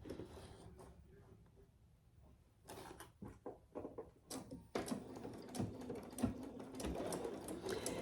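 A sewing machine back-stitches with cotton thread on a fabric clutch, starting after a quiet pause and then running in short clattering bursts and a longer steady run, close and moderately loud.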